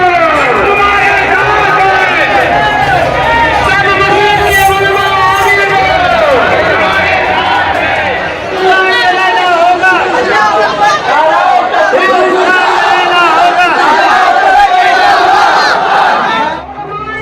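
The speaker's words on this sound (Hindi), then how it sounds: "हाथों में तिरंगा लेकर भीड़ सड़कों पर नारेबाजी करने लगी।" Dense crowd in the street at Abdul Hamid Chowk, Malegaon, chanting slogans, some of it led over a microphone. The loud shouting rises and falls in rhythmic waves and runs continuously, with a packed mass of overlapping voices throughout.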